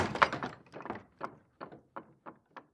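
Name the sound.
door opening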